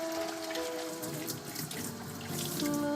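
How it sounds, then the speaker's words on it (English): Hot water runs from a tap onto small car parts being rinsed, a continuous splashing wash with a faint tonal hum, moderately quiet and steady throughout with no talking. "I like to rinse it with hot water in between these steps."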